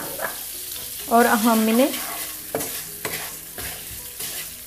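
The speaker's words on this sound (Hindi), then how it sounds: "जब इतना इनके फ्राई करेंगे कि इनका लाइट सा कलर आ जाए" Vermicelli frying in a pan with cardamom, stirred steadily with a soft continuous sizzle and scraping, while someone speaks over it.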